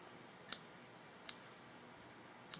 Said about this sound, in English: I'm going to trim straight across.